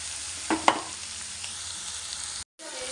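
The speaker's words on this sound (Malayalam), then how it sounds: "തക്കാളിക്ക് ഉള്ളിയും കൂടെ വഴറ്റുക നല്ല ടേസ്റ്റാണ്." Onions and tomatoes sauté in a hot pan with a steady broad sizzle, broken by a few louder stirring scrapes and a brief gap of silence near the end.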